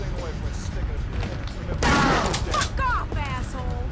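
Rapid gunfire in the shooter game Kingpin, a loud burst in the middle of a short stretch of continuous crackling game action, with a voice speaking faintly underneath.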